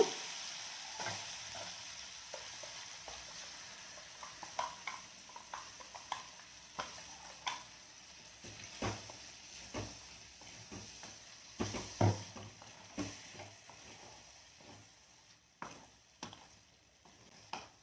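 Mutton liver frying in a pan gives a faint, steady sizzle, broken by a long series of irregular scraping and tapping stir strokes from a spoon against the pan, with no talking.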